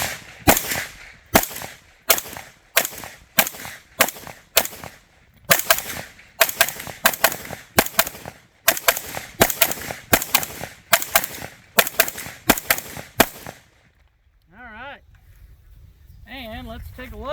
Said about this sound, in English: we're going to load up the PWS, and we're going to see how it handles some rifle calibers.